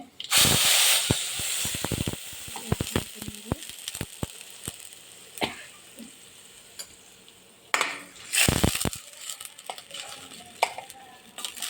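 Ground paste for ginger pachadi hitting a hot pan, bursts of loud hissing sizzle with steam, then repeated stirring scrapes and clatters, a second strong sizzle surge near the end.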